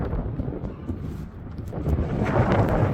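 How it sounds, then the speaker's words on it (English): Strong wind buffets the microphone in a continuous low roar that swells louder toward the end. "It's windy."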